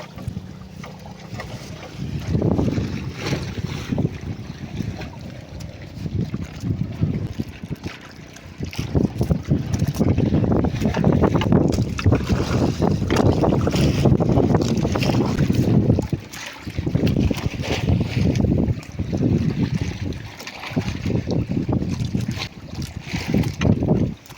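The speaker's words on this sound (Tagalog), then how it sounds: "Bangka." Small outrigger boat (bangka) out on the open sea, with steady wind buffeting the microphone and a continuous rushing roar of engine and water that swells and dips in long stretches.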